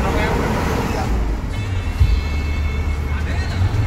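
Buses and traffic rumble at Giwangan bus terminal, with low engine drone, passing vehicles and a background babble of people talking.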